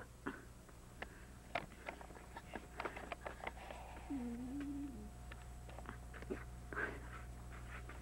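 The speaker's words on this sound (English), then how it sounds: "That's right, Champy, bark." A dog indoors at a 1984 Thanksgiving gathering pants softly and lets out a short whimpering whine, faint and close, with scattered light taps and rustles in a quiet room.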